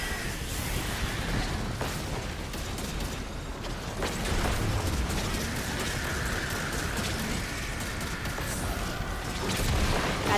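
Blasts and clattering weapon noise from Destiny play in a steady, dense wash, with a heavier surge in the middle where a grenade could go off, fairly distant and without talk over it.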